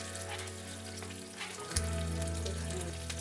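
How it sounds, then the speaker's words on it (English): Beans with Georgian spices (utskho suneli) sizzling and frying steadily in a pan while being stirred, a continuous close hiss with no talk, growing slightly louder midway. "and we continue mixing"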